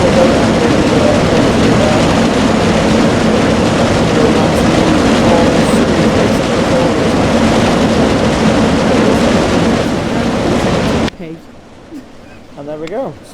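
Roller coaster train in the RollerCoaster Tycoon 3 video game, a steady loud rumbling clatter of the cars running along the track for about eleven seconds before cutting off abruptly to quieter game sound.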